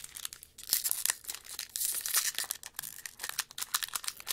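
A vintage Pokémon Team Rocket booster pack is torn open up close. Its foil crinkles and rips in sharp, irregular bursts over a few seconds.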